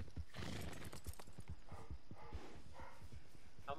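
Horse hooves clip-clop in a steady walking rhythm in Red Dead Redemption 2, close and clear, with a brief whinny and no talking.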